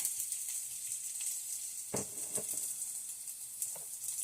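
Rice poured into a hot soup pot with browned ground turkey and stirred, bursting into steady close sizzling with a scraping, stirring rustle partway through.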